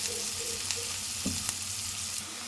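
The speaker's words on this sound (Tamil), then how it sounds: "இது எல்லாமே சேர்த்து கொஞ்சம் நல்லா வதங்கட்டும்" Onion, garlic and ginger sautéing in a pan, giving a steady close sizzle with a few soft stirring scrapes.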